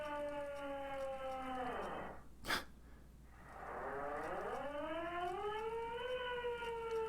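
A hand-cranked police siren in the video game Disco Elysium winds up and down in rising and falling wails, briefly dropping away mid-clip before spinning back up to a steady howl.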